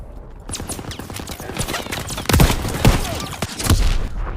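Machine-gun fire in Call of Duty WW2, with rapid clattering bursts throughout and a few heavier shots standing out near the middle and end, mixed with battlefield noise.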